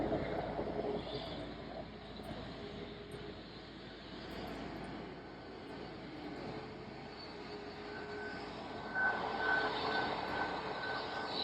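A jet airplane's engine roar rumbles steadily as it lands and turns around, swelling slightly toward the end, heard from a distance with no talking.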